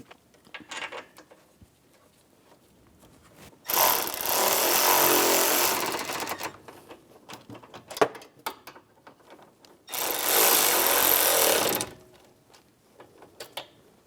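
Power tool spinning bolts into the AC condenser lines on a 2009-2013 BMW 328i xDrive: two loud sustained whirring bursts of about two seconds each, separated by quieter clicks and handling noises, with no talking.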